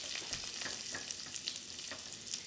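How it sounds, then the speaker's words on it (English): Onions hitting smoking-hot vegetable oil in a wok for a Thai chicken stir fry, a steady close sizzle with faint crackles and stirring, no talking. "Make sure that's smoking hot and your onions go in."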